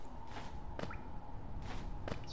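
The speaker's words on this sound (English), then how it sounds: "It's water." Water drips in the Hollow Knight game, a few spaced, bright plinks over a steady low ambient hum, moderately close and clear with no talking.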